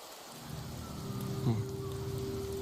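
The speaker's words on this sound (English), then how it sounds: "The rains in Septimont never seem eager to leave this season." Steady game rain falls in Septimont in Wuthering Waves, a soft continuous hiss with a low tonal hum and a brief swell partway through, no talk heard.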